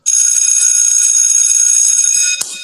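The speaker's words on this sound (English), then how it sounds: "I guess we can go ahead and ring this school bell, right?" A school bell rings loudly and steadily for over two seconds with a bright, sustained metallic tone, then cuts off sharply with a brief clank as it stops.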